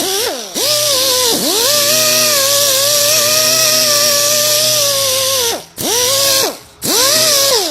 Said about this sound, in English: what we'll start off with is our 500 grit. And we're going to just sand off the coating